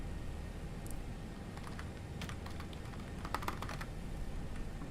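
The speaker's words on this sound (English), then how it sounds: "Typing it out." Clicking keystrokes on a computer keyboard, typed in short irregular bursts with pauses between, close and quiet against a soft background hum.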